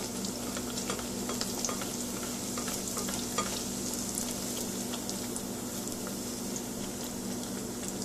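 A rice pancake (Mangalorean Ataa Rasaa) fries in a pan with a faint, even, continuous sizzle and no break in the sound.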